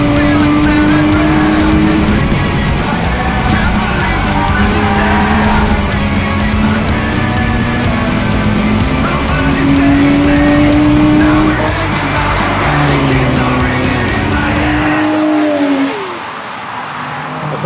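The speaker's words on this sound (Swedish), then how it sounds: "nu är det bara 30 minuter kvar på racet, så Robin Plater som kör nu" Race cars roar past during a six-hour endurance race, engines loud and close with rising and falling tones, tire squeal cutting in, before the noise drops away near the end.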